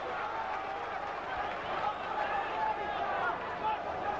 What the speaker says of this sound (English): And jeers from the Chesterfield crowd.